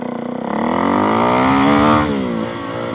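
A Suzuki DRZ400SM motorcycle with an upgraded Race Tech rear spring pulls hard at full throttle in first gear, its close, loud engine note rising steadily in pitch and then easing off near the end.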